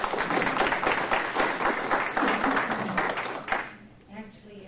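A crowd applauds at a township candidate forum, steady clapping that holds for a few seconds and then fades out near the end, with some voices mixed in.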